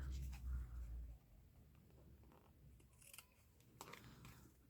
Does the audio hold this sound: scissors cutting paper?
yes